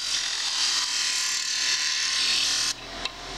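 A homemade disc sander, brazed together, runs with a steady high-pitched whirring grind that holds evenly, then drops abruptly near the end with a brief knock.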